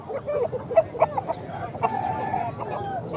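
An Aseel rooster at a poultry market clucks in short bursts, then lets out a drawn-out crow, close by and fairly loud.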